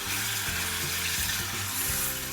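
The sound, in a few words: beef frying in a pan for pepper fry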